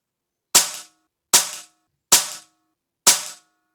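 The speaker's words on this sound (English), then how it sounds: "what an absolute beast of a rifle this is to shoot" Four sharp shots from an HFT500 air rifle fired at a range, each a crisp crack with a short decay, evenly spaced about a second apart with no talking.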